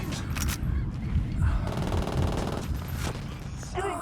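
Gunfire in the Ghost Recon Wildlands video game, a sustained volley of rapid shots with loud bursts over a noisy combat mix, and a voice is faintly present underneath.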